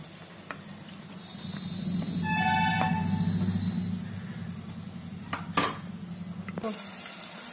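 Onion pieces frying in oil inside a pressure cooker on a stove, a steady low sizzle with a few clinks and scrapes of utensils against the pot.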